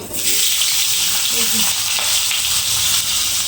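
Potato drops into hot oil with tempering spices and fries in a loud, steady, close sizzle that holds for a few seconds without a break.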